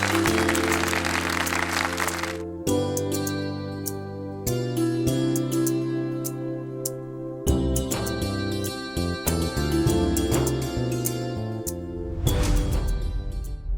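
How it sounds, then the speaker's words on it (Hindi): A studio audience on a Hindi television drama set claps to welcome a singer, with sustained applause mixed over loud musical swells and abrupt cuts, heard alone without talk. "तालियों से स्वागत कीजिए मिसेस चारुलता सेन का"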